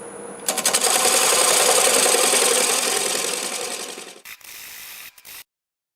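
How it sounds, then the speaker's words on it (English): A wood lathe spins at around 700 RPM while a freshly sharpened 3/8 swept-back bowl gouge cuts soft catalpa wood for a bowl. A steady, close, rattling cutting noise runs about four seconds, fades briefly, then stops abruptly. "I'm going to start with a 3/8 swept back bowl gouge, freshly sharpened, at around 700 RPMs."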